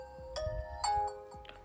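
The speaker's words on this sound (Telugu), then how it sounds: "Nokia అని వచ్చింది అండ్ అలానే Nokia రింగ్ టోన్ వచ్చింది" A Nokia 8.3 5G phone plays its short startup ringtone, a few clear, bright chime notes rising one after another. It is close and fairly quiet, with no talking.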